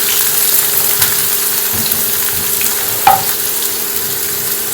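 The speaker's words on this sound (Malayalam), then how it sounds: "ഒരു പാൻ ചൂടായിട്ട് വരുമ്പോൾ അതിലേക്ക് നമുക്കൊരു സവോള ചെറുതായിട്ട് കട്ട് ചെയ്തത് ചേർത്തതിന് നമുക്കൊരു ഗോൾഡൻ ബ്രൗൺ ആവുന്നവരെ ഒന്ന് ഫ്രൈ ചെയ്തെടുക്കാം" Chopped onion fries in a hot pan for ghee rice, giving a steady low sizzle with faint occasional clicks, close and even throughout.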